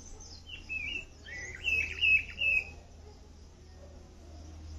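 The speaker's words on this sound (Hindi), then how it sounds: "और आप इन चिड़ियों की आवाज सुन सकते हैं," Several short morning bird chirps and tweets ring out in small bursts in a mountain village, over a quiet background with a low steady hum.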